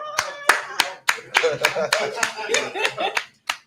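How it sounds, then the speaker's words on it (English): A handful of sharp, separate hand claps ring out at uneven intervals in a small room, with a voice talking between and over them throughout. "I'll give sister a hand round of applause."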